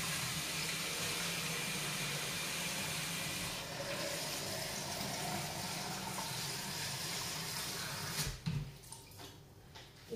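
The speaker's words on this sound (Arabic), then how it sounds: "غادي نحاول نعمر هنا الماء." Cold water from the fridge pours steadily into a container for homemade butter and ghee, a continuous rushing splash that fills most of the stretch before stopping abruptly, followed by a few faint drips and knocks.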